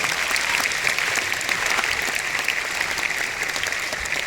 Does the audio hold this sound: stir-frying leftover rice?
no